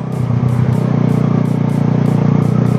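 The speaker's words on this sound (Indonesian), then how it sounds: "Knalpot racing ini bro." A motorcycle with a standard engine and a racing exhaust idles loudly and close, a steady low rumble with a fast even pulse running throughout.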